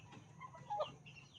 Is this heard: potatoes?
no